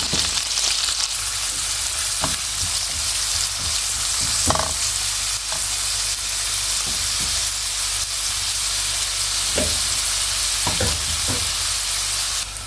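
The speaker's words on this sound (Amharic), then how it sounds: "እዚህ ጋር ዘይት ፈልቷል ማለት ነው። አሁን ሽንኩርቴን አደርጋለሁ" Onions crackle and sizzle loudly in hot oil in a pan, a dense, steady hiss up close with occasional stirring knocks and scrapes, and no one speaking.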